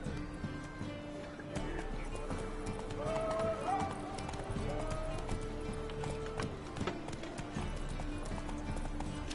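Hoofbeats of a horse galloping in Witcher 3 Wild Hunt, a steady rapid clip-clop over game music and ambience, with occasional speech.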